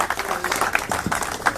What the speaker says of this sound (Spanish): Un fuerte aplauso para la compañera Héctor Gringo Machete